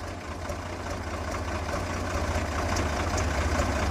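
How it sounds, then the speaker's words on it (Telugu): A tractor engine idles steadily nearby as it pumps water through a pipe into a truck's tank, giving a continuous low rumble with a faint rhythmic throb and no voices. "ఆ ట్రాక్టర్లో ఆ పైపు ఇప్పుడు మా ట్యాంక్లోకి వేసి లోడ్ చేస్తాం అనమాట వాటర్"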